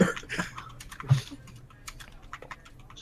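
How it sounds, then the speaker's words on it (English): Someone types on a computer keyboard, a quick, uneven patter of soft key clicks that runs throughout at moderate distance with no voices over it. "Typing the Bible over there,"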